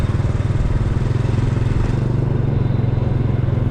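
Motorcycle riding a road between San Jose del Monte, Bulacan and Montalban, Rizal, its engine holding a steady, loud, continuous low drone with a fast rhythmic pulse and no talk.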